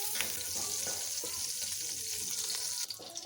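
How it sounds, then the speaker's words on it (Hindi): Melting ghee sizzles steadily in a pan as whole cardamom pods go in, a continuous bright frying hiss with a few small pops and a brief clatter near the end, no talking. "घी मेल्ट हो गया, इसमें मैं ये इलायचियाँ डाल रही हूँ।"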